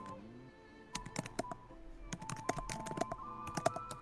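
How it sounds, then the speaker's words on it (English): A computer keyboard being typed on in quick, irregular bursts of close, crisp clicks, quiet and alone after a brief pause. "I hear you typing"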